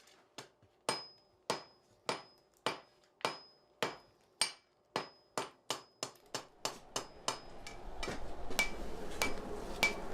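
A Two Harbors artisan blacksmith hammers hand-forged metal at his forge, about seventeen sharp ringing strikes in a steady rhythm that quicken toward the end and give way to a denser clatter and roar, with no talking.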